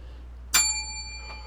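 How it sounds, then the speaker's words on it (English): A single bright bicycle-style bell ding struck once, ringing clearly with a sustained shimmer that fades over about a second, with a faint second tap afterward over a low steady hum. "Ring the bell."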